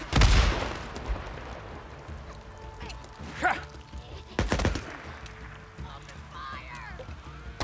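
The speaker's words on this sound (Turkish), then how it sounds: "Ben bunları bir bomba fırlatmak istiyorum ya" Thrown bombs detonate in the zombie survival game Days Gone, with a close blast at the start and further sharp bangs, set among scattered gunfire and creature yelps at moderate loudness.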